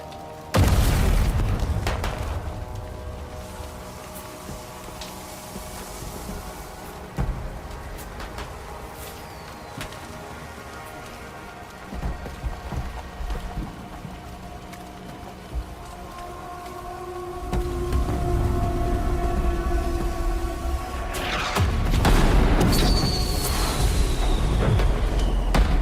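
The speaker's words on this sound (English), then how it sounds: "I like fireworks." Fireworks in the video game Death Stranding 2 bursting in a series of booms, some near and loud, others distant, with crackling tails and a broad rolling rumble between bursts.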